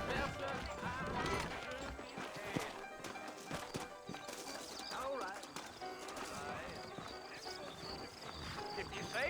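Horse hooves clop in Red Dead Redemption along with snorts and whinnies, layered with busy game sounds and someone talking over them throughout.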